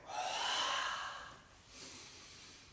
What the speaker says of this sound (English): inhale, hold, exhale